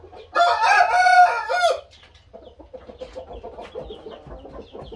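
Rooster in a breeder's coop crows once loudly and close, a harsh drawn-out call lasting over a second, followed by softer clucking and a quieter fowl murmur in the background.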